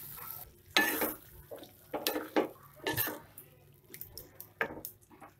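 A potato, onion and tomato mixture for sambar being stirred in a pot, with close, irregular scraping and clinking of a spoon against the metal alongside a soft sizzle.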